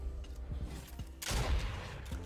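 Fortnite weapon fire in an arena match, a few soft thumping shots followed by one louder, sharp blast, all at a moderate distance.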